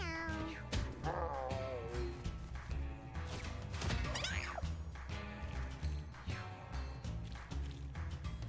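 Cat from the video game Mewgenics meows and caterwauls repeatedly with rising, wavering cries, mixed with thumps and smacks of attacks over game music, a faint voice briefly heard.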